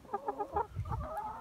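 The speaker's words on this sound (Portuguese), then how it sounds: "Mais uma vez, digam tchau, galinhas." Free-range chickens in Austria cluck in quick rhythmic bursts, close and fairly quiet, with softer low murmuring clucks following.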